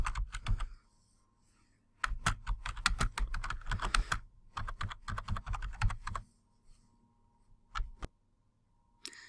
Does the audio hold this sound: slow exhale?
no